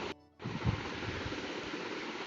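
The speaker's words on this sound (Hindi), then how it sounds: "अब हम इसको ब्लेंड कर रहे हैं।" An electric blender whirs through coriander leaf chutney with salt, a steady, dense roar that starts after a brief dip and then runs on evenly.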